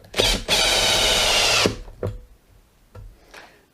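A DeWalt DCD996 drill whirs loudly for about a second as it drives a screw into wood, then stops, followed by a few short clicks and quieter handling knocks.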